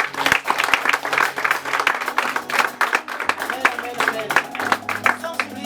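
Congregation applauding at a church conference opening evening. A dense, steady round of clapping from many hands fills the room throughout, with voices mixed in.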